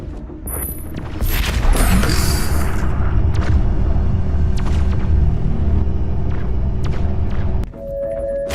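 A loud, sustained explosion rumbles from a destroyed target in the Doom Eternal video game, opening with a blast and holding a heavy low roar for several seconds before cutting off into quieter game ambience.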